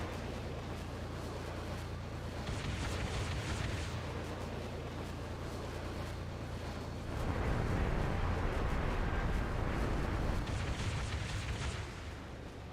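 Rocket blasts in the video game Halo 3 roar as sustained, heavy booming rumble with broad noisy bursts, swelling louder after a brief lull and filling the mix without any voices.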